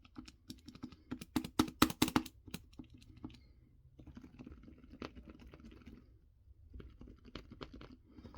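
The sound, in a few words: typing on Logitech K295 Silent Touch keyboard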